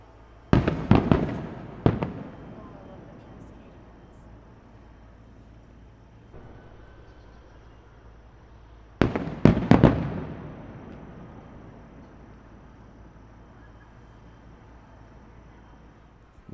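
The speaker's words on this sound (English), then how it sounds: "We haven't seen that many fireworks." Fireworks bursting at night at Disney World, with two clusters of loud, sharp bangs several seconds apart, each followed by rumbling echoes that fade into quiet.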